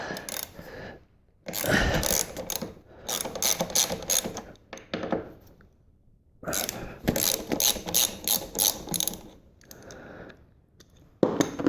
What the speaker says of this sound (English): And we're going to take our ratchet here. This happens to be a 12 millimeter. And we are going to loosen this up.